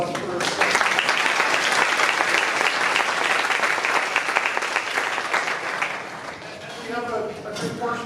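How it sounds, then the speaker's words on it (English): Sustained audience applause following a keynote at an education research day, loud and dense at first, then thinning out as scattered claps and a voice emerge toward the end. "Let's just take a moment and round of applause for."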